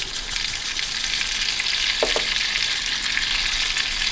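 Pieces of rock bass frying in a pan, with a loud, dense, continuous sizzle close up and a brief scrape partway through, and no talking.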